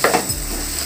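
Bread halwa with cashews is stirred in a pan over a low flame, a brief close scrape and soft sizzle with no voices.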